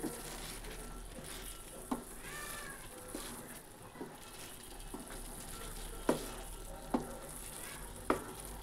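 Chicken masala being sautéed in a pan with splashes of spice-rinsing water, a low steady sizzle broken by periodic spatula knocks, with a cat meowing now and then in the background.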